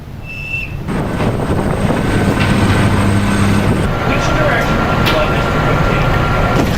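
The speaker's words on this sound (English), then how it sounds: "Rekaman video menunjukkan awak dek penerbangan mengarahkan jet tempur untuk lepas landas" A fighter jet launches from an aircraft carrier flight deck in the Strait of Hormuz, its engine making a loud, steady, broadband roar that fills the whole stretch.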